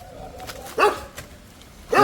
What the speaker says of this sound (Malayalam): ഇതാണ് പത്മകുമാറിൻ്റെ പട്ടി അല്ലേ?